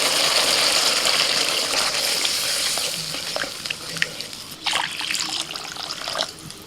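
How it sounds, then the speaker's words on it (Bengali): Water poured into mustard paste in a hot cooking pan, a close, steady frying hiss with trickling and stirring sounds that grow busier toward the end. "মিনিট 2-3 মশলাটা ভালো করে কষিয়ে নিয়ে এবার জল দিয়ে দিচ্ছি।"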